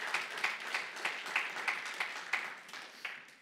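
A church congregation claps together in a steady, even rhythm, about a dozen crisp claps at a brisk pace, moderately quiet, with no voices over them.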